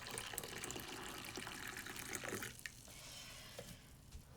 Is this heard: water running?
yes